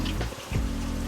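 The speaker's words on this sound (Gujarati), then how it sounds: "વરસાદ તો જો." A brief, dense hiss of rain falls steadily on outdoor surfaces, loud and close, with a short dip in the middle and no voices.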